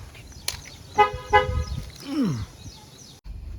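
A car being taken out gives two short, bright toots close up, followed by a brief rising chirp and low engine rumble before the sound cuts off.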